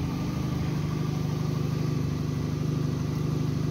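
A Peugeot 206 engine idles smoothly and steadily close by, a continuous low even hum with a fine regular pulse and no misses, heard alone without any talk.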